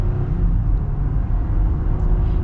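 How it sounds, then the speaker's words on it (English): A 2021 Jeep Gladiator Mojave gets moderate, partial-throttle acceleration in traffic, heard as a steady low engine rumble from inside the cab with no talking. "So this is gonna be like partial throttle."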